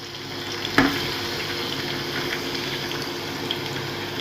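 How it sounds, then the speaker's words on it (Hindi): Chopped onions go into hot oil for a bread pakoda recipe: a steady, even frying sizzle runs throughout, with one brief knock near the start, close and moderately loud, with no speech. "बस ऑयल लिया, पहले ऑयल रख दिया गर्म होने के लिए। अभी इसमें प्याज डाल रहे हैं।"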